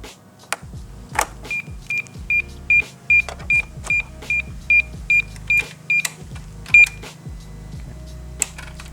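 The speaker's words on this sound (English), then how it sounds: "That was just the alarm." A BMW S1000RR motorcycle alarm beeps in a steady run of short electronic tones, repeating at an even pace over mechanical clicks and low engine-like rumble.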